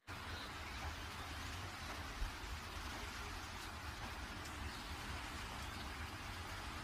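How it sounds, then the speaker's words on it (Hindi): Heavy rain pouring steadily during a village fair, a dense, even hiss of downpour with no breaks, constant and enveloping for the whole stretch, no voices. "और बारिश बहुत तेज होती है,"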